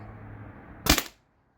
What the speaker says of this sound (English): I'm just going to shoot one more shot, I think.